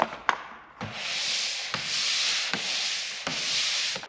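Rhythmic back-and-forth strokes of hand sanding drywall, a soft abrasive scratch repeating about every second, close and without talk.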